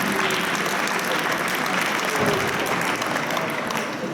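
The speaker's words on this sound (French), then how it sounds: "Donc on peut quand même applaudir aussi le club" Audience applause at a youth chess championship in Occitanie, a dense steady wash of many hands clapping throughout, fairly loud and continuous.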